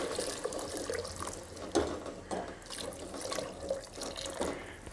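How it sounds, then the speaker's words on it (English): Vegetable stock pours steadily into a pot with splashing and gurgling, fairly quiet and close, with no one speaking. "add some vegetable stock"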